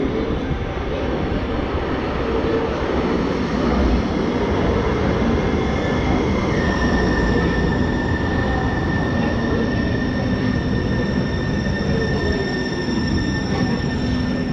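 A Seattle Link light rail train runs with a continuous loud rumble and rolling wheel noise, with a sustained whine rising in pitch partway through, without voices.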